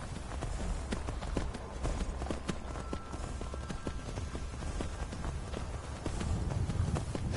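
A horse's hooves clip-clop quickly up a steep hill in Skyrim, the rapid irregular thuds running continuously over a low rumbling game background.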